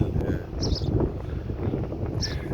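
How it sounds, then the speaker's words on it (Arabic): Strong wind blows outdoors in Aswan, Egypt, buffeting the microphone as a steady low rumble with uneven gusts, fairly faint overall. "اللي فيها هوا جامد أوي زي ما انتم شايفين"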